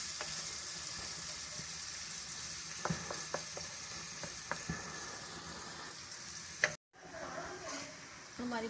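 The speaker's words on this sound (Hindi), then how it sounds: "हमारी प्याज गोल्डन हो रही है" Onions frying in a little oil until golden for a fried eggplant and potato dish, a continuous close sizzle with occasional stirring scrapes and a brief pause near the end.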